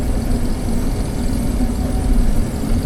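Harvest machinery engine idling on a chilly morning to warm up, a steady low rumbling drone with constant vibration, close and continuous with no talk.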